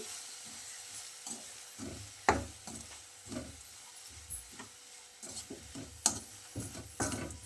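Flattened rice and grated coconut being mixed by hand or spoon, giving soft irregular scraping and rustling strokes with a few sharper knocks, close and fairly quiet with no talk.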